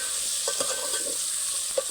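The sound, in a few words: okra being stirred and frying in kadhi tempering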